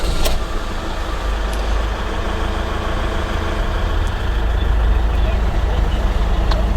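An Iveco Daily IV diesel van engine runs at a steady, loud low rumble just after starting, idling evenly with no pauses.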